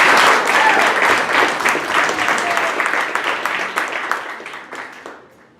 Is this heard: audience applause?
yes